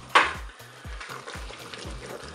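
Ratatouille with tomato concentrate gets stirred in a Cookeo multicooker pot, a soft sizzle under repeated scraping spoon strokes against the pot in a steady rhythm, starting with a louder clack.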